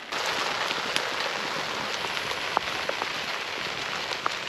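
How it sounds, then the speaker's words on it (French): Rain falls steadily on a camper 4x4 while camping in Romania, a soft continuous patter with a few sharper drops and clicks standing out. "tu commences à prendre la pluie là, ça y est."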